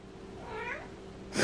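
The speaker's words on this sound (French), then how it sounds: "Elle miaule vraiment drôlement" A cat gives a soft meow indoors, then a louder, sharper cry at the very end, close and alone with no voices.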